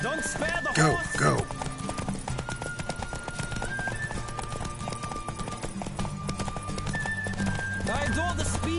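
The horse Roach gallops in The Witcher 3: Wild Hunt with a rapid, continuous clip-clop of hooves, while snorts and a whinny come early on and a game music bed drones beneath.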